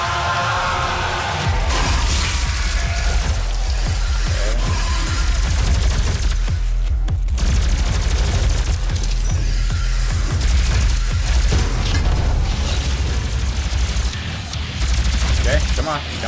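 Nonstop video-game gunfire from Doom, including shotgun blasts, pounds loud and dense for the whole stretch, with rapid bursts and booms layered close together.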